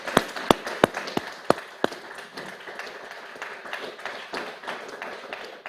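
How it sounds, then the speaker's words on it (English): Audience applause for the panelists at a live public-policy event, opening with several sharp, loud individual claps over a broad wash of clapping that thins into scattered, softer claps over about five seconds. "a round of applause, please, for our panelists"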